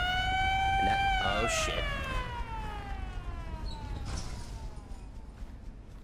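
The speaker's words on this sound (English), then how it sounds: "Did not like the siren." A loud wailing siren in Resident Evil: Revelations 2, its tone sweeping slowly downward over several seconds while a player talks briefly over it.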